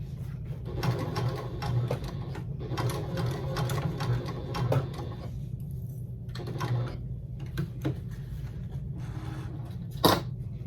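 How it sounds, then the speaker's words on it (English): A sewing machine top stitching a fabric tote bag runs in steady bursts of rapid stitching, with short pauses between runs and a sharper click near the end, fairly close and with no talk. "So I'm going to do that to the other piece and then top stitch"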